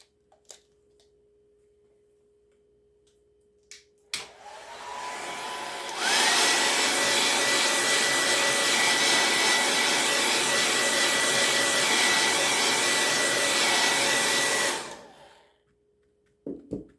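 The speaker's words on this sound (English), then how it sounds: "So I'm going to take my blow dryer and I'm going to dry this." A hair dryer drying paint switches on with a loud, steady whooshing roar, runs at a higher setting for several seconds, then shuts off, leaving a faint hum.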